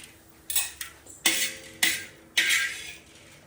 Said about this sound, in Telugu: పచ్చి శనగపప్పులు వేయించుకుందాం.